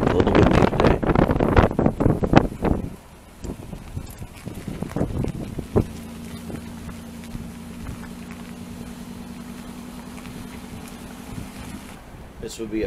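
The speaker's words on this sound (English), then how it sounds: "I do apologize for the wind." Gusty wind buffets the microphone in rough bursts, then settles into a steadier rumble with a low engine-like hum underneath.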